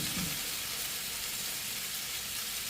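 Meatballs and onions being stirred in a sizzling pan for Swedish meatballs, a steady close frying hiss throughout with soft scraping stirs underneath, no voices.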